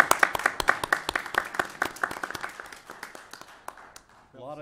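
A small room of people at a Putnam County, Florida commission meeting applauds a retiring county official, with crisp close claps at first that thin out and fade over about four seconds, ending in a brief voice.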